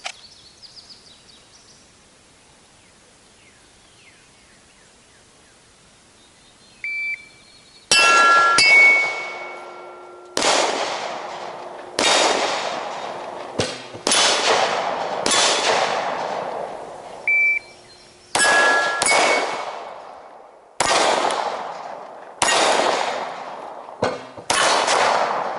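Shots from a 7.5-inch short-barreled rifle during a drill, each a sharp loud crack with a ringing metallic clang off a steel target, about eight shots in uneven succession after a quiet start, close and alone.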